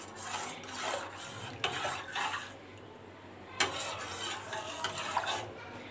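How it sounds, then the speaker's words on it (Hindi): A spoon stirs Labe Sheri dessert powder into room-temperature milk in a bowl, giving repeated close scraping and swishing strokes with a few sharper clinks against the dish. "इसमें हम लबे शीरी को जो पाउडर है उसका ऐड कर लेंगे और अच्छी तरह से इसको मिक्स कर लेंगे"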